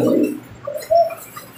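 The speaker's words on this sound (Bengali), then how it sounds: "এখানে অসাধারণ একজোড়া কবুতর, মাশাআল্লাহ দেখার মতো একটা পেয়ার" A pair of shadel fieldback pigeons gives a couple of brief low coos, soft and close, after a short muffled sound at the start, with no speech.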